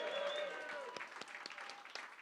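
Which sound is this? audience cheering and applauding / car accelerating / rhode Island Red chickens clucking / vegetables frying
audience cheering and applauding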